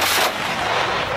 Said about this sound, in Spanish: Con esos tiros de salva al aire